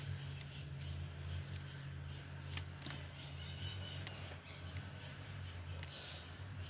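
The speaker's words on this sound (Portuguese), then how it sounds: "Essas secas eu vou cortar. Você corta. Lembrando de pegar uma tesoura esterilizada" Sterilized scissors snip dry Phalaenopsis orchid roots in a few faint, sparse clicks over a steady low hum, with no talking.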